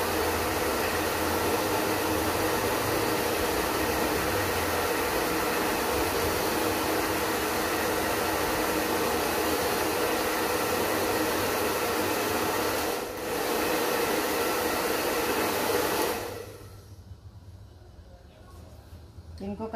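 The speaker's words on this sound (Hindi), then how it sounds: "लास्ट में एक बार फिर से फाइनल मार देंगे ड्रायर" A hair dryer blows steadily on freshly cut hair at the end of a haircut, a loud continuous whoosh that runs unbroken before cutting off abruptly near the end, leaving quieter room sound.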